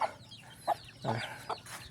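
Free-range chickens on a farm give a few short, faint clucks spaced across two seconds, distant and quiet against light outdoor background noise.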